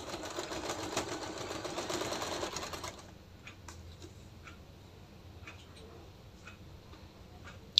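A sewing machine runs steadily for about three seconds stitching a diagonal seam on a salwar, a close, even whir that then stops, leaving quiet with faint ticks of handling.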